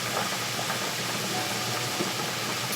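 Butter cooks in a pan with plant-based burger meat, a dense, even sizzling hiss that holds steady throughout, close and fairly loud with no voices.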